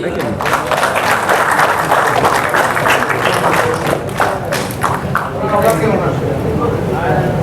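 Loud, steady audience applause at a multi-club prize distribution ceremony, dense clapping filling the whole stretch with voices mixed underneath.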